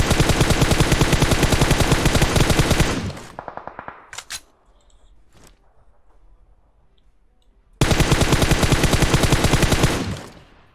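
Rapid automatic gunfire in the mobile battle royale game PUBG Mobile, two long loud bursts of machine-gun fire separated by a few seconds of quieter clicking and near silence.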